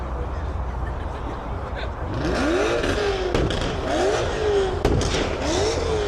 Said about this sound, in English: it sounds like a V8